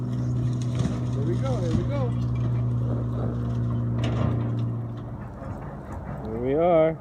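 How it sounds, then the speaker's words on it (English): A backhoe demolishes and crushes a house, its engine a steady, fairly close drone running throughout while people talk over it. "Over here, Backhoe still going at it."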